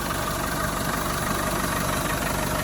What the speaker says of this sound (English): showing the engine running when it's warm.